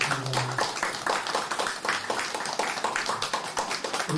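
Church congregation at a Sunday service clapping for elderly members receiving gifts, a steady, moderately loud patter of hands lasting a few seconds with no talk.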